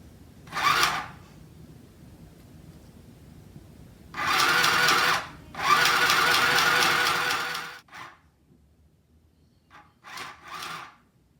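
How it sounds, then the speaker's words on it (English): A sewing machine stitches ribbon onto a skirt in short runs: a brief burst, then two longer steady whirring passes, followed by a few quick taps, with quiet pauses between. "We've sewn on the ribbon on each side, we need to sew it up here"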